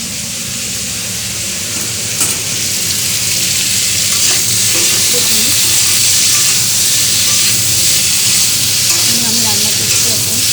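Food frying steadily in a kadai over a strong gas flame, a loud continuous sizzle with occasional stirring clatter throughout, with no talking.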